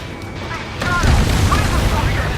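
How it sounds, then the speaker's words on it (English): In the Ace Combat 7 combat flight game, a loud boom erupts partway through and gives way to a sustained rumbling roar, with radio-style voices talking over it. "What was that explosion?"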